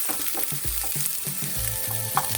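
Onions fry in hot oil in a pan for a crab dish, a steady sizzle broken by rhythmic scraping stirs, close and fairly loud with no talking.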